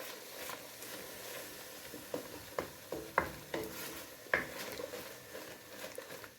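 Rajma gravy with butter gently mixed in a pan, with soft sizzling under a series of spoon taps and scrapes against the metal that grow more frequent partway through, close and with no talk.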